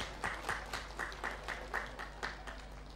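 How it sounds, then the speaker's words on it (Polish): Audience applause at a village contest, a Polish inter-village tournament, with a steady wash of clapping and regular louder bursts throughout, moderately distant and without talk over it. "Wielkie brawa!"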